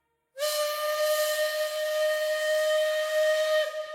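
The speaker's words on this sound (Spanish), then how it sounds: "un sonido: el silbato de un tren" Steam train whistle sounding one long, steady, piercing blast that starts abruptly and holds for about three seconds, loud and clear with a breathy hiss, no other sounds around it.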